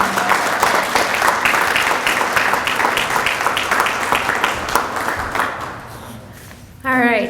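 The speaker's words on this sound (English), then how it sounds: "Big round of applause." Sustained applause fills the room for community college honor society inductees at a Phi Theta Kappa induction ceremony, steady clapping that tapers off near the end before a voice starts speaking.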